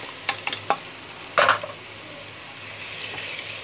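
Mutton pieces sizzle in a pan with fried ginger and garlic for a mutton yakhni pulao. A few light utensil clinks and a louder stir cut through a constant close frying hiss.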